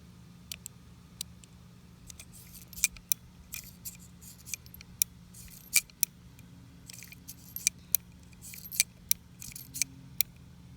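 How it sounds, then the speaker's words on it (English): Hollow point rounds are pushed one by one out of the cylinder of a Heritage Rough Rider .22 revolver, producing a scattered series of small metallic clicks and taps over quiet room hum, with no talking. "Now we'll come unload the hollow points"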